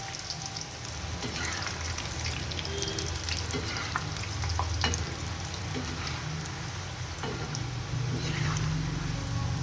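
Wheat flour biscuits fry gently in oil over a low gas flame, giving a steady, moderately quiet sizzle with scattered small pops and crackles throughout.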